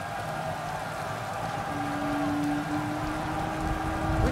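Steady rain falls in the video game Skyrim, a continuous even patter and hiss with a low tonal hum running underneath, no voices.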